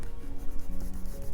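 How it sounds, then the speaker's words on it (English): Scissors cutting a rough outline around marker line art on plain paper, a close, quiet run of scraping snips and rustles in an uneven rhythm with no talk. "I'm just gonna take out my scissors again and cut a rough outline around where the line art is."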